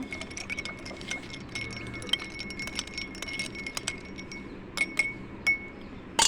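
Ice cubes dropped into a glass of yogurt lassi give scattered light clinks and rattles over a low background hum, with a few sharper, louder knocks near the end.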